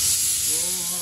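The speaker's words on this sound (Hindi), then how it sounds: "कुकर ने सिट्टी दे दी है" A kitchen pressure cooker vents steam in a loud, steady hiss that fills the whole short moment, close by.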